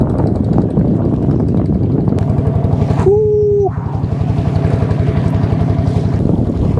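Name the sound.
boat on the Jamuna river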